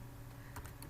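Typing on a computer keyboard, a few faint quick key clicks over quiet room noise in under a second.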